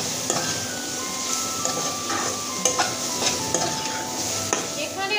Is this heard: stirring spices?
yes